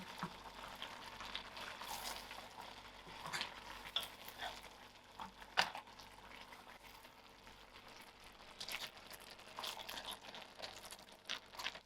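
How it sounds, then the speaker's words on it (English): Rice being folded into a lamb masala curry in a pot, a soft continuous scraping and stirring with wet crackles and brief clinks of the spoon, close and fairly quiet. "I'm going to mix the rice into the curry"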